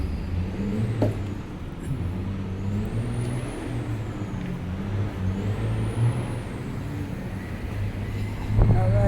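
A truck passes along a waterfront street with a steady engine rumble and traffic noise, and a brief air brake hiss sounds near the end.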